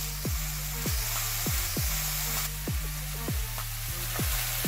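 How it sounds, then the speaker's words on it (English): Vegetables for cheesy spring rolls being stir-fried at high heat, a soft continuous sizzle with a regular series of tapping or scraping strokes roughly every half second, heard close and without speech. "Now we're gonna stir fry it at high heat just for about 2 or 3 minutes"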